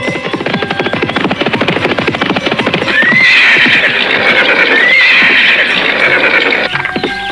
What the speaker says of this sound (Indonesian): Pagi-pagi sekali, dia berkuda bersama Pangeran Joyorogo